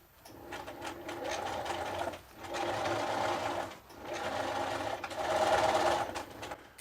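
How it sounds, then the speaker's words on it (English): A sewing machine stitches a continuous lap placket, running along the seam where two fabric panels meet, in three steady bursts separated by brief pauses, close and moderately loud with no talk. "she's just stitching right between those two panels of fabric, right where that seam comes together"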